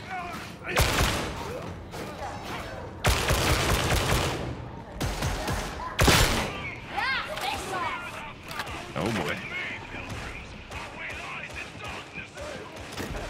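Gunfire in Warhammer 40k: Darktide rings out as several loud, sharp bursts of shots that punch through close combat noise, with people talking over the action.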